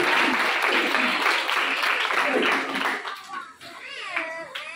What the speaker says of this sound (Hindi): जोरदार तालियां यीशु के जलाल के लिए दीजिए।